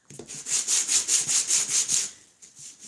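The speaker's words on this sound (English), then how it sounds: "So then a little bit more sanding." Rhythmic rubbing strokes of sandpaper on wood, about a dozen steady back-and-forth passes, close and fairly loud, then a brief pause and a softer stroke.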